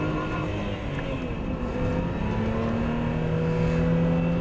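Classic supercharged car engine of over 300 horsepower pulling through the gears, a steady, fairly loud droning roar with gently shifting tones heard alone without talk.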